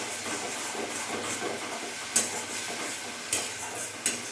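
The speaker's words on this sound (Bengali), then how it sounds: "এবার ভালো করে আমি নাড়াচাড়া করব।" Spices with salt, turmeric and Kashmiri chilli powder stirred in a hot pan for a Bengali rohu fish curry: a continuous sizzling hiss, broken by three sharp utensil clinks or scrapes, with no talk.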